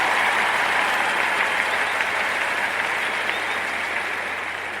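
Sustained applause from an audience honoring a couple at a Gwinnett County event, dense and steady clapping throughout, slowly easing in loudness toward the end.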